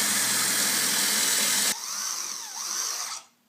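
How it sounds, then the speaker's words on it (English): A power drill whirs at high speed drilling pocket holes in a wood face frame with a jig, cuts off abruptly, then winds up again briefly before stopping. "I'm going to drill this end."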